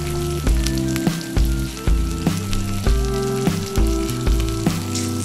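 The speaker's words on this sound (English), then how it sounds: "We're gonna throw half of a large white onion in. I'd say maybe about a half a pound of white mushroom." Half a large white onion and about half a pound of white mushrooms frying in olive oil in a pan, a steady loud sizzle broken by repeated stirring scrapes, up close with no talk.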